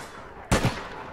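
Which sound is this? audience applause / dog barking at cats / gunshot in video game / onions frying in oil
gunshot in video game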